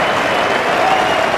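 A cricket crowd applauds loudly and continuously as an England batsman reaches his century against Australia in a 1989 Test match.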